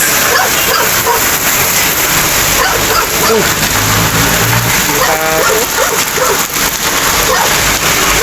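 A dog barks angrily in a few harsh bursts, half-buried under loud, steady rain and wind noise from Typhoon Nando.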